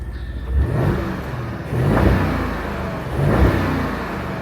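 A 2025 Porsche Cayenne GTS V8 engine revs in three rising swells over a steady idle rumble, heard close and loud.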